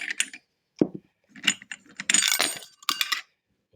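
Plastic guard being fitted onto an RZTK GB 20V cordless grass trimmer, giving short clicks, rattles and twisting scrapes in brief separate bursts, close and fairly loud.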